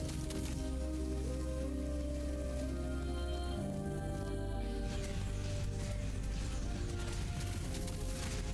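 Video game rain from a skill effect in a Wraith army battle, a dense continuous patter of raindrops over low mechanical game sounds, loud and steady throughout.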